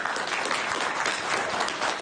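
Quarantined students clap together in the corridors of a student dormitory in Kocaeli, a dense, steady burst of many hands filling the space for two seconds without speech.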